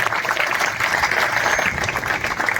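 Crowd clapping at a clerks' strike rally in Haryana, steady and continuous dense applause from many people, held at an even loudness throughout.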